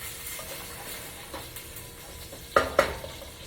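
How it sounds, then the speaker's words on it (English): Potatoes, cabbage and onion stir-fry in a cast iron skillet with a soft steady sizzle, light stirring scrapes, and two sharper utensil clinks near the end. "this is a potato and cabbage stir fry"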